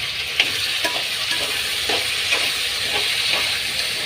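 Chopped vegetables sizzle in a pan as small cut tomatoes go in for vegetable rice, a steady hiss broken by several soft stirring scrapes and spatters.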